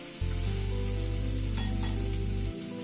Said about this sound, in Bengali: গ্যাসের ফ্লেমটাকে মিডিয়ামে রেখে মশলাটাকে ধীরে ধীরে কষিয়ে নেব।